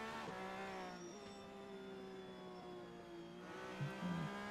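A loud Porsche race car engine in a racing game at the Nürburgring GT circuit holds a steady, buzzing tone, then dips and rises as gears change near the end.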